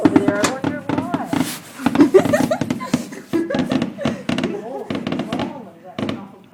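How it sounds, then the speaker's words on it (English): A large pile of fireworks goes off outdoors near a crowd, with rapid pops, crackles and thuds arriving in dense bursts while someone talks over them. "that's an awful pile of fireworks"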